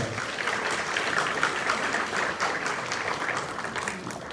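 Wedding guests in a church give sustained, even applause to welcome the pastor, a continuous wash of many hands clapping at moderate, somewhat distant level with no talking over it.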